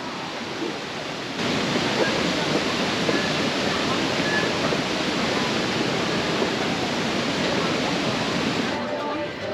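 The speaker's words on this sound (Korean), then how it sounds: "이번엔 예스 폭지 투어의 세 번째 폭포입니다." Shifen waterfall in Taiwan roaring as a steady, dense wash of falling water, constant and fairly loud from start to finish, with no voices standing out.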